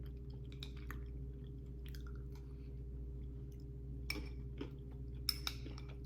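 Someone chews a mouthful of melted food while tasting it, soft wet mouth sounds close up over a steady low hum, with a few sharper clicks and smacks toward the end.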